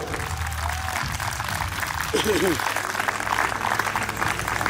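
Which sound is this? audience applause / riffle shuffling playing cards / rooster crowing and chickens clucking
audience applause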